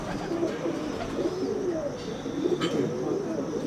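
Soft, repeated cooing from a missa pigeon near at hand, rolling warbles continuing throughout with little else over them.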